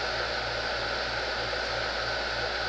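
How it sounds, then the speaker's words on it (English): Room air conditioner running near a laptop repair bench, a steady loud whooshing hiss of blown air with a faint low hum underneath, unbroken for the whole stretch. "I don't even know if you can hear me with this stupid air conditioner."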